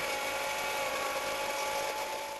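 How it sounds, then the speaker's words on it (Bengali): A blender runs steadily, whirring through homemade mayonnaise ingredients as they thicken into a creamy texture, a continuous loud motor drone with no pauses. "সব উপকরণগুলো দেওয়ার পর ব্লেন্ড করে নিচ্ছি যতক্ষণ না ঘন ও ক্রিমি টেক্সচার আসছে"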